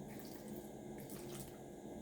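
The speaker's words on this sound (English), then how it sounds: "Just add a little water," A little water is poured into oats for a baby's porridge, making a faint, steady trickling splash that runs unbroken for a couple of seconds with no voices.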